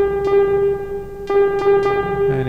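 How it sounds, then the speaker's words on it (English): Steady hiss and hum from a spring reverb turned all the way up on a Roland SH-101 setup with nothing played, a constant noisy drone with faint periodic crackling swells, close and alone. "And it gets quite noisy, as you can hear, without playing anything with the reverb all the way up."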